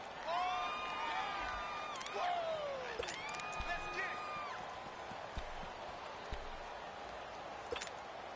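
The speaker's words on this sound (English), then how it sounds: "the crowd getting into it as we come up on a big 3rd down" Video game football stadium crowd cheering and roaring as a big third down approaches, a steady wash of crowd noise with bursts of whistle-like tones and shouts, while a commentator's voice talks over it.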